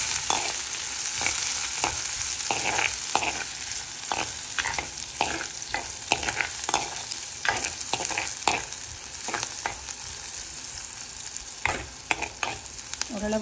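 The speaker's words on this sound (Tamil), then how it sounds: "ஓரளவு பொன்னிறமாக வரும் வரைக்கும் மாறி மாறி கிளறி பண்ணுறது" Tin fish curry ingredients frying in a pan while being stirred, a continuous close sizzle punctuated by repeated rhythmic scrapes and clacks of a spoon against the pan, with no voices.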